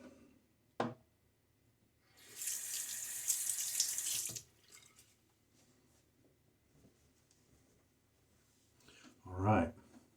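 Tap water runs steadily into a sink for about two seconds while a face is rinsed during a straight-razor shave, with quieter splashes and handling noises before and after.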